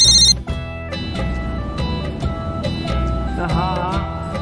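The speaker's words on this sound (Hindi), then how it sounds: "तेरी बीवी का फोन रिंग हो रहा है ना?" A telephone rings briefly at the start with a bright electronic tone, then cuts off, leaving a busy, loud background.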